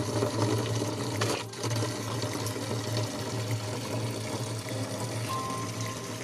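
Water filling vessels from a hillside stream near a house during the rainy season, a steady close trickle and pour with a low continuous hum underneath, no talking.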